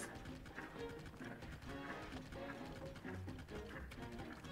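Hooves of a skeleton horse in Zelda: Tears of the Kingdom, a steady rapid clip-clop of a galloping horse that stays close and even throughout, over busy game sounds.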